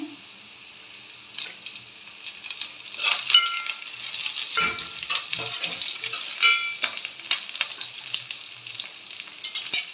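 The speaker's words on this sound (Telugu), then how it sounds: "ఉల్లిపాయలు అయితే బాగా వేగిపోయినాయి. ఇందులో 2 రెబ్బలు కరివేపాకు కూడా వేసుకుంటాను." Curry leaves dropped into hot oil with well-browned onions, sizzling and crackling up close, with stirring clatter of a spoon against the pan.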